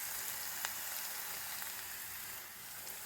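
Potato pieces fry in a pan with a steady, dense sizzle and crackle throughout, plus a few faint stirring clicks, with no talking.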